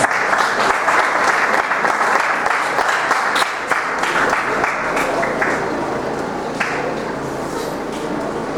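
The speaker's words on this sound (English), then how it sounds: "Round of applause," Sustained audience applause at an urban redevelopment conference welcoming an architecture professor to the stage, a dense, steady wash of clapping that holds loud throughout and tapers slightly toward the end.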